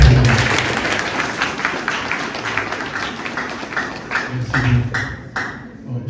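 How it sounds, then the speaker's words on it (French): An audience at a conference in Kayes, Mali, claps in a dense burst of applause that starts strongly and gradually thins out, with a few louder scattered claps near the end. "un applaudissement"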